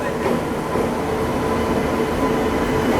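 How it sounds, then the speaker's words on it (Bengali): The Kanchanjunga Express (Silchar–Sealdah) rolls into platform 1 of a station, a loud, steady rumble of wheels and carriages that holds evenly throughout, with no voices. "ট্রেন দিয়ে দিয়েছে আমাদের 1 নম্বর প্ল্যাটফর্মে। ট্রেন ঢুকছে।"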